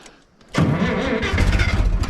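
A G900 engine cranks and catches after a brief pause, then settles into a steady, loud running idle close by with no talking.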